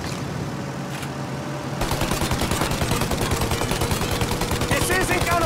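Rapid gunfire in Mafia Definitive Edition rattles against a plane's engines. A quieter engine rumble comes first, then a loud, dense run of rhythmic shots that keeps going to the end.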